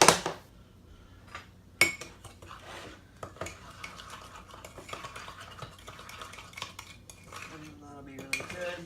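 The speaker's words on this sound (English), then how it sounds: "And then you're just going to mix that up until it's well combined." A utensil stirs butter and sugar in a cup for a microwave cookie, scraping and clinking steadily against the sides with a few sharper knocks, close up and without speech.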